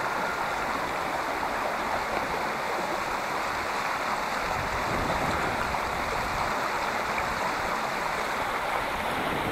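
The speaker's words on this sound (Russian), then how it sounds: "Сильное течение." Strong river current rushing past in early spring with snow on the banks, a loud, steady broadband roar of flowing water that holds constant throughout with no voices.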